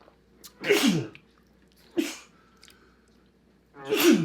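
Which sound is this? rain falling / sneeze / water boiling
sneeze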